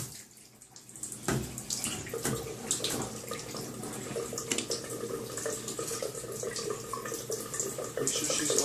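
Running water from a bathtub or sink tap splashes steadily over a dog being bathed, a continuous close wash lasting throughout, with a person talking intermittently over it.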